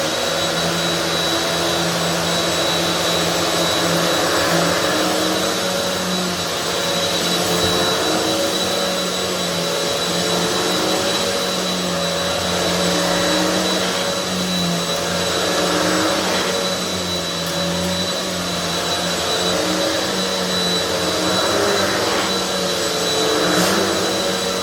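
Kenmore EVO handheld vacuum running continuously for an airflow test, a steady loud motor whine with a rushing air hiss and slight fluctuations in tone, nothing else heard.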